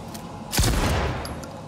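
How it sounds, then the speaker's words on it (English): A single loud shotgun blast from Cyberpunk 2077 gameplay, a sharp crack with a booming tail that rings out for about a second over quiet game ambience. "Use a shotgun to finish things off."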